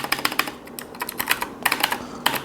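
Rapid, irregular clacking comes from a Keychron K2 wireless mechanical keyboard with swapped keycaps being typed on, the bursts close and crisp with no talking.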